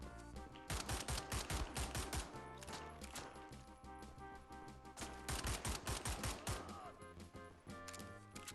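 Assault rifle gunfire in the shooter Wolfenstein: The New Order fires in rapid, sharp bursts with short pauses between volleys, loud and punchy against a busy game soundscape.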